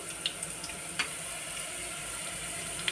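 Onions and cumin sizzling in a frying pan, a soft, steady hiss with light crackles and a few small pops, close and fairly quiet, with no voices.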